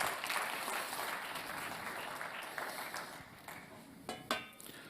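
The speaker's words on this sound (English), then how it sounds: "Give a round of applause to Ida" Audience applause at a manufacturing awards event, a fairly faint, thinning patter of clapping that tapers off, ending with a few isolated louder claps.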